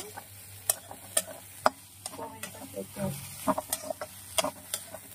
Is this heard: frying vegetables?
yes